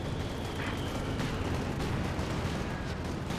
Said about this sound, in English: Mattress opening fire on the front, hitting all sorts of stuff.